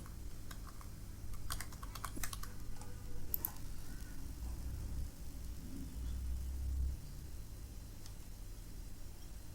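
Someone types a text prompt on a computer keyboard, in quick bursts of close clicking keystrokes early on that thin out to scattered taps over a low background rumble, with no talking.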